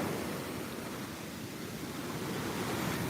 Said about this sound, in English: look, I am in the waves